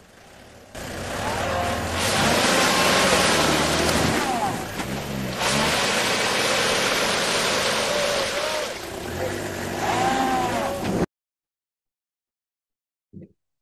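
4WD vehicle engine revving hard without traction during an off-road recovery, apparently in two-wheel drive, a loud sustained roar rising and falling for about ten seconds before cutting out.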